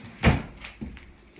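A door bangs shut once nearby in a home with dogs and a baby, a single loud thump followed by a couple of fainter knocks and rattles.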